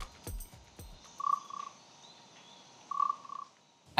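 Two short, buzzy croaks sound out a couple of seconds apart against near silence, an instrument mimicking a bullfrog, with a few sharp knocks around them.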